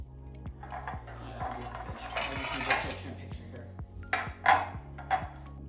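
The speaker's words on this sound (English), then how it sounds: "I'm gonna just lightly dust each of these out and then tap it out in the sink" Flour-dusted metal madeleine pans being tapped out in a kitchen sink, a few sharp metallic knocks and rattles over a low steady hum.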